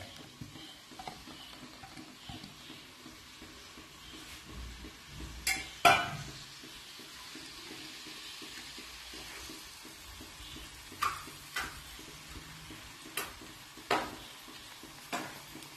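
Chopped onions sizzle quietly in hot cooking oil for a chicken tomato karahi, a soft continuous frying hiss broken by occasional louder clinks and scrapes of a utensil against the pan, with no talking.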